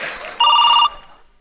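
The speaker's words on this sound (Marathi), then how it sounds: "फोन आला." A telephone rings once with a loud, steady electronic bell tone lasting about half a second, close by, with faint room sound before and after.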